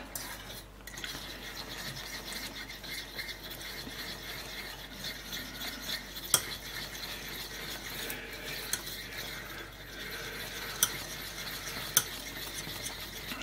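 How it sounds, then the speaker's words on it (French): Food with melted butter stirred in a pan while it cooks, a long run of soft scraping and rubbing strokes over a faint sizzle, with a few sharp clicks of the utensil against the pan, quiet and close. "Et je continue à brasser jusqu'à ce que ça cuise"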